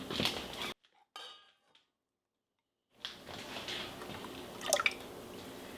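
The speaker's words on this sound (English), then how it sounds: "I'm going to start by putting the softened cream cheese into the bottom of my saucepan" Heavy cream poured into a saucepan over softened cream cheese gives brief liquid trickles and light clinks of pans, broken by a stretch of near silence before handling noise resumes.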